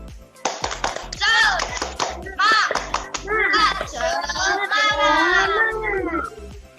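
Children in a classroom perform the tepuk semangat clapping chant, sharp rhythmic hand claps in a patterned sequence under loud chanted young voices, close and lively.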